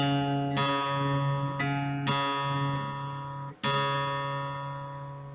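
A guitar's fourth string is plucked and retuned several times, its sustained tone wavering slightly as it settles into unison with a matching pitch, with no voices.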